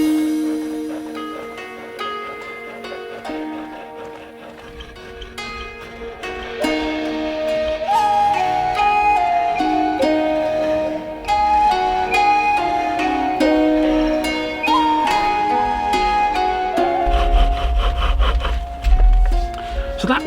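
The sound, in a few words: pole lathe chisel cutting wood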